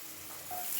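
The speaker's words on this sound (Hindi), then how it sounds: "हम इसी पैन में हम थोड़ा सा बटर डाल लेंगे।" Butter sizzling in a pan for a mixed vegetable and dal fry dish, a steady soft hiss throughout that swells slightly toward the end, with no voices.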